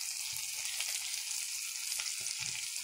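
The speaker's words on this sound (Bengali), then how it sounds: "ভালো করে একটু কষিয়ে নিতে হবে" Spices sautéing in a pan for a banana stem curry, a soft continuous sizzle with light stirring scrapes, fairly quiet and close, with no voices.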